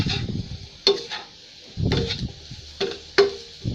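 Sliced potatoes and onions fry with paprika in a pan, sounding as soft sizzling broken by clinks of a utensil against the pan and stirring scrapes, close and without talk.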